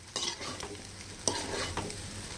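Chicken fried rice being stirred in a frying pan: a soft continuous sizzle broken by a few scraping stir strokes, close and fairly quiet with no voices.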